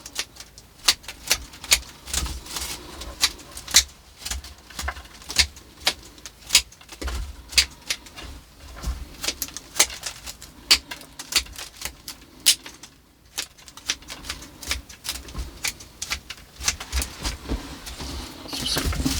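Long-bladed garden scissors snip through pyracantha and hornbeam, giving many sharp, close clicking cuts in an irregular rhythm with brief pauses, alone without talk.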